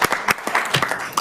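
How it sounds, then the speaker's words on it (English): A brief burst of audience applause at a county health board meeting, many hands clapping together at close range for about a second. "let's give a round of applause to the JPS Foundation"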